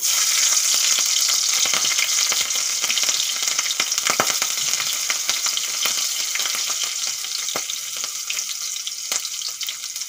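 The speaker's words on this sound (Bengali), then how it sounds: "তেল গরম হয়ে গেছে, ফোড়নে দিয়ে দেব কালো জিরে আর চেরা কাঁচা লঙ্কা।" Black cumin seeds and slit green chilies hit hot oil as a tempering for Malabar spinach seeds, giving a loud, close, continuous sizzle full of rapid pops and crackles that eases slightly over time.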